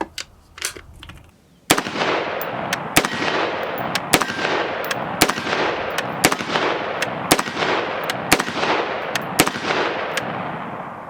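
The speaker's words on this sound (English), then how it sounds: "That is the softest AR-15 I think I have ever shot in my life." A Springfield Armory Saint Victor AR-15 fires 55-grain .223 full metal jacket rounds at a range. After a few soft knocks, a loud string of evenly spaced sharp shots follows, with echo between them.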